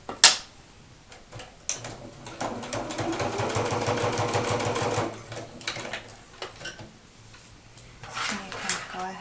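A sewing machine stitches across a raw fabric edge on a folded strap, running in one steady whirring burst in the middle, with scattered clicks and handling noises before and after.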